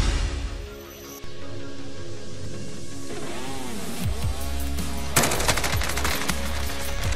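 Gunfire in a shooter video game with sniper play, a sharp loud shot followed by rapid bursts of fire and engine-like rumble, dense and continuous under game effects.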